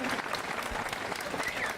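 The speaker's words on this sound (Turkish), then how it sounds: "Alkışlar kadınlarımız için bu kadar zorlu bir branşı yaptıkları için" Steady, dense applause from an audience at an award ceremony for a champion women's spearfishing team, clapping continuously at close range with faint crowd murmur.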